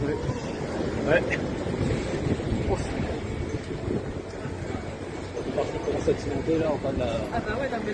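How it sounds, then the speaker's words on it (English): Storm wind and large waves on the Brittany coast at Saint-Malo roar as a dense, continuous rush of surf and gusting wind buffeting the microphone, loud and close, with voices talking over it. "Large waves and coastal flooding in St. Melo, Brittany, northwest France."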